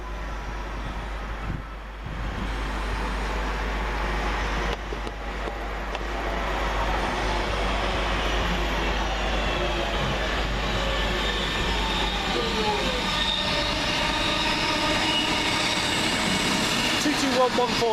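Train 9S65 from London Euston to Glasgow Central passes at Coseley in a long, continuous rumble lasting the full eighteen seconds. Wheel and rail noise builds steadily, and faint tonal squeals rise within it.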